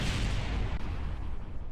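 Explosions in the video game Kerbal Space Program make a dense, loud, continuous roar with a deep rumble that fills the whole moment without a break.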